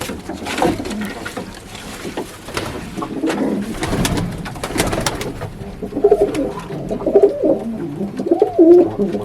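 Pigeons in a loft in Barishal coo repeatedly, close and moderately loud, with soft low calls that come and go over a background of rustling and shuffling movement.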